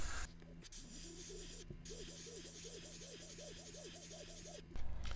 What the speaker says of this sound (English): So just spraying black right around the eyes and along the ridge of it